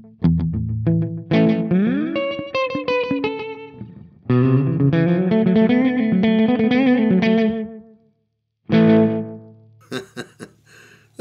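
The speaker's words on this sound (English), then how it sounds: "That's a really nice sounding delay." An electric guitar played through a Flamma FX20 pedal's delay effect, melodic phrases ringing out with echoing repeats, loud and close, pausing briefly near the end before a last burst of notes.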